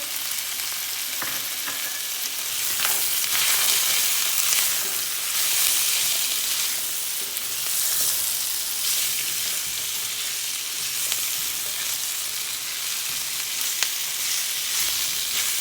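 Vegetables for sweet potato soup frying in a pot, a steady broadband sizzle with occasional stirring scrapes, close and fairly loud throughout, with no voices.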